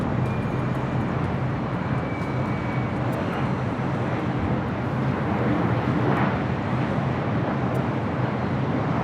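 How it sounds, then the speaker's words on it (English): An Alaska Airlines Boeing 737-700 arriving at LAX from SFO produces a steady, broad jet rumble that holds at an even level throughout, with no voices. "Alaska Airlines flight 427 coming in from SFO is 737. Get this, 700."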